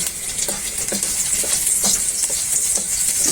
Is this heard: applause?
no